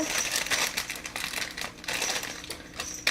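Wrapping on a gift package being torn and crinkled open, a close, busy crackle of paper or plastic handled continuously for a few seconds.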